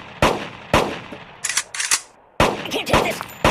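Sharp gunfire bursts at a shooting range in a mobile game, loud close shots cracking out in quick irregular groups with brief gaps, alone without voices.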